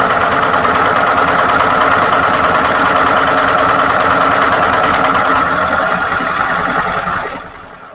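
A sewing machine stitches a hem using a seam guide, a loud, close, steady motor drone with fast rhythmic needle chatter that runs continuously before winding down at the end, no talking.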